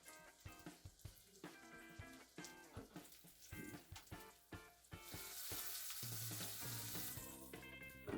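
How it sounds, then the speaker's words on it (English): Veal cutlets sauté in oil and butter in a pan, with a bright crackling sizzle that comes in close bursts at first, then settles into a steady, louder frying hiss. "We're gonna saute these bad boys until they get a nice golden brown."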